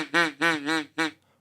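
Mallard hen duck call blown by hand, four loud nasal quacks in a quick series, the last one clipped, with a brief quiet tail afterward.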